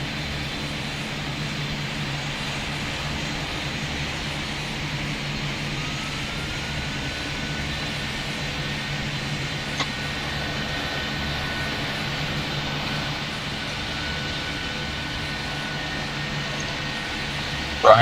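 A Wizz Air airliner departs in the Roblox game Pilot Training Flight Simulator, its jet engines a loud, steady roar with a faint rising whine, sustained for the whole stretch without talk.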